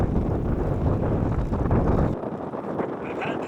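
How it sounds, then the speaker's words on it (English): Strong wind buffets the microphone along an open road on a hot day, a loud, rumbling low roar that eases somewhat near the end, with no clear voices over it. "this stretch of the road, there's always so much wind. You might be able to hear it."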